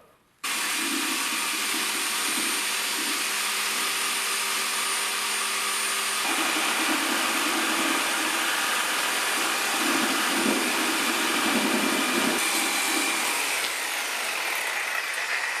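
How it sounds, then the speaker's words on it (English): Sawzall and angle grinder cutting through the timing cover of a 5.7 HEMI engine, a loud, continuous harsh buzzing whine that runs almost the entire stretch with shifting pitch and intensity, close up and without talk. "We're going to fire up the Sawzall and the grinder, and we're going to get this timing cover where it needs to be"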